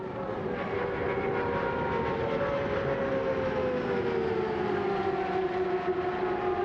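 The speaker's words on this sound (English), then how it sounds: "Distinctive sound of turbocharged IndyCar engines." Turbocharged IndyCar engines at a 1997 CART 500-mile oval race roar past in a continuous high-pitched drone with a falling pitch sweep, moderately distant, no talking over it.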